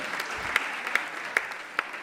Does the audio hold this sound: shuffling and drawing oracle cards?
no